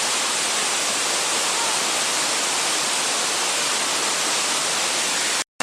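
A waterfall at Pha Taek Falls in Khao Laem National Park, Kanchanaburi, pours as a steady, dense, broadband roar that stays loud and unchanging throughout, then cuts off abruptly at the very end.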